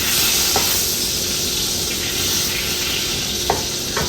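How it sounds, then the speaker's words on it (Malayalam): Three tablespoons of ghee hiss and sizzle steadily in a hot pan for payasam, with a few sharp clicks of utensil contact over the continuous frying noise. "ഞാനിപ്പോൾ ഇതിൻ്റെ അകത്തോട്ട് 3 ടേബിൾ സ്പൂൺ നെയ്യ് ചേർത്ത് കൊടുക്കുകയാണ്."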